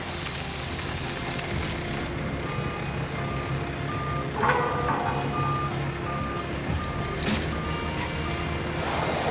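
A road train truck manoeuvres at Roma to hook up two trailers into a quad, its steady engine rumble running throughout while a reversing alarm beeps at a regular rhythm over hissing air brakes.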